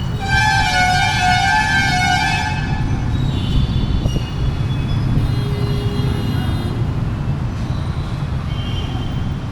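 A steady loud rumble of a Bangalore metro train in motion, with a high electronic tone sounding at the start and faint hums over the continuous roar.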